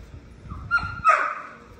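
An XL pitbull gives a short yip and a sharp bark, each brief and fairly close, against a quiet background.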